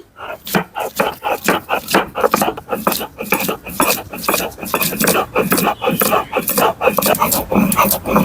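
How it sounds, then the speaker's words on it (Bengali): Ginger and garlic are ground on a stone, a rhythmic, gritty rasping of stone on stone in steady back-and-forth strokes, close and loud, repeating for several seconds. "প্রথমে আমি বেটে নিচ্ছি আদা আর রসুন"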